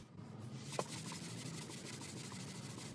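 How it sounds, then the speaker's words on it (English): Soft, steady scratchy rasp of 220-grit sandpaper scuff-sanding a wooden plant stand, rubbed back and forth, quiet and continuous with no voices. "scuff sand the rest of the piece. And I'm feeling along with my hand as I go"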